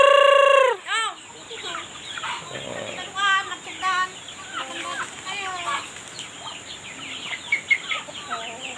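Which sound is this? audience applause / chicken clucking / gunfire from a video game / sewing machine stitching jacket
chicken clucking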